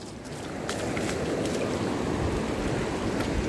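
Ocean waves breaking on the shore at a fishing spot, a loud continuous rushing wash with wind buffeting the microphone, no voices.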